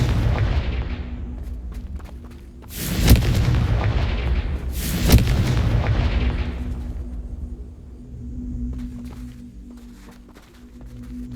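Two heavy fiery blasts from the Confringo spell in Hogwarts Legacy boom out a couple of seconds apart, each a sharp loud burst trailing into a rumbling tail over low background game ambience.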